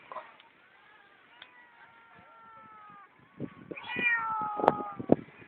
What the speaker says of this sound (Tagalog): Yan, pusa po yan.